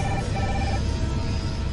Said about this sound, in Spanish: Poco después suena el teléfono